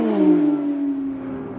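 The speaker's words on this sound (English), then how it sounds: "The Porsche Carrera Cup is so loud!" A Porsche Carrera Cup race car roars around the circuit, its loud, strained engine tone sliding steadily lower in pitch as it passes, with no talking.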